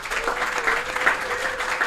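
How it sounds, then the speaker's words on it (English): A live-event audience gives a round of applause, brisk dense clapping from a moderate crowd that runs steadily for a couple of seconds. "Give them another round of applause, you guys"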